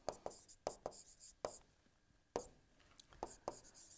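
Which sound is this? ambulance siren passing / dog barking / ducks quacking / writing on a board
writing on a board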